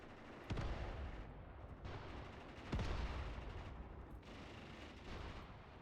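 Gunfire in the video game Graviteam Tactics, with weapons fired into a forest: dense, continuous rumbling battle noise with a few sharp, heavier blasts standing out, distant and fairly faint overall.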